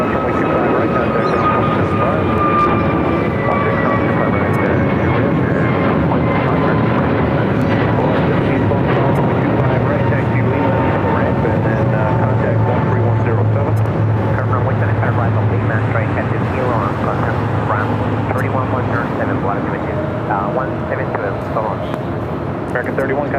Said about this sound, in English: Flight 31 now taking off.